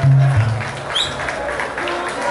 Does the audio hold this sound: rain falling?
no